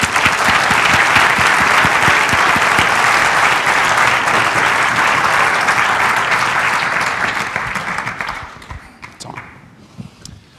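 Loud, sustained applause from a large audience welcoming Justin Trudeau onto the bima at a Hanukkah gathering, dense clapping holding steady for about eight seconds before thinning out to scattered claps at the end.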